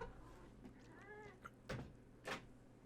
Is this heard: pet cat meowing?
yes